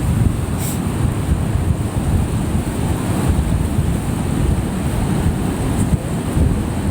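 A waterfall runs behind a frozen ice face at sunrise, giving a steady, loud, continuous rush of water with wind-like hiss and no voices.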